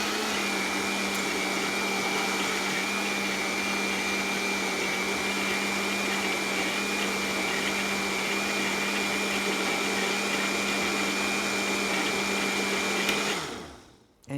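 A blender whirs loudly and steadily blending a green drink meal, a continuous motor roar holding constant for many seconds before abruptly winding down and stopping.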